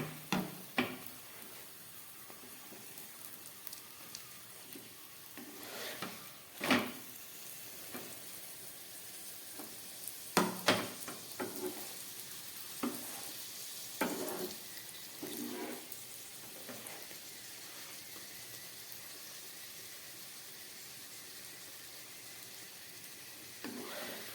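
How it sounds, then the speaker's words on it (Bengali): Methi paratha, a fenugreek-leaf flatbread, fries in a pan. A faint, steady sizzle is broken by occasional clicks and scrapes as the breads are turned. "এইভাবে ঘুরিয়ে ফিরিয়ে সুন্দরভাবে পরোটাগুলোকে ভেজে নিতে হবে"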